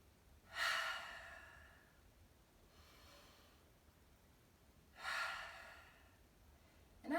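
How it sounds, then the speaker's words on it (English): Two long, breathy exhales during a beginner's yoga shoulder-shrug exercise, spaced a few seconds apart with a softer breath between them, close and fairly quiet over a faint room hush. "Inhale all the way up, audible exhale."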